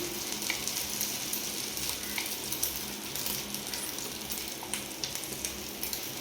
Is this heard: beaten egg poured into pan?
yes